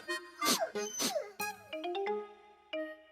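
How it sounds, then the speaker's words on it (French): A small brown cartoon puppy yips and barks in a short series of high, bouncy cries, mixed with light musical tones, close and clear. "Un adorable petit chien brun. Le petit chien remuait joyeusement la queue."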